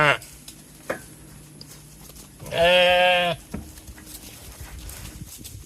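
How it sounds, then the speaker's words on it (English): Sheep in a paddock on a small family farm give a loud, wavering bleat lasting under a second, with a shorter cry at the start and quiet shuffling and faint background noise between calls. "I got these sheep here in this paddock set up."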